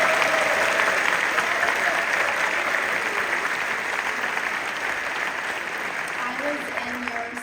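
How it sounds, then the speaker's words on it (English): Families in the audience at a high school jazz band competition applaud with a continuous wash of clapping, and faint voices or cheers sound underneath as it slowly eases off. "can we give a round of applause to our families who are here?"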